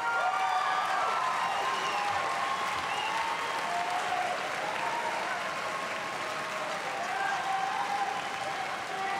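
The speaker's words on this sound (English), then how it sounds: "thank your parents and those supporting you with a round of applause" Sustained applause from a high school graduation audience in White Bear Lake, steady dense clapping with some crowd noise throughout, no one speaking over it.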